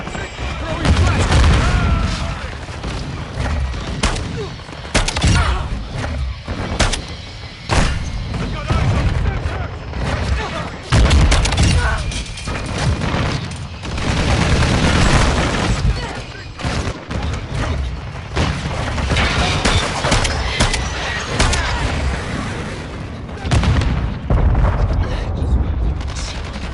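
Dense gunfire and grenade blasts from a Call of Duty Modern Warfare II match, loud overlapping rifle bursts and booming explosions with scattered game voice callouts, nearly continuous for the whole stretch.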